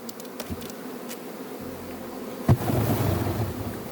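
Soft, steady honey bee buzzing hums close by at an apiary hive during the acacia nectar flow, with a sudden louder burst of buzzing and rustling partway through.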